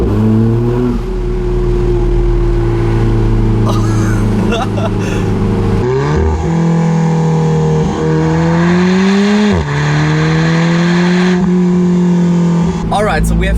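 An Alfa Romeo 4C Spider Italia accelerates hard in first gear, its engine rising in pitch through several sharp revving pulls with abrupt drops between them, loud and close with someone speaking over it.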